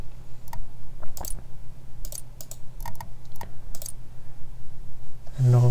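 A computer keyboard and mouse click in short, scattered bursts of close, crisp taps with pauses between them, during PC play of BioShock Infinite.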